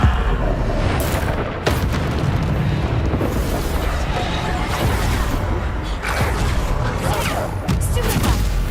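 Bombarda spell blasts in Hogwarts Legacy go off in a loud, continuous barrage of booming explosions and crashes, dense and close, with faint voices shouting spell names under the din.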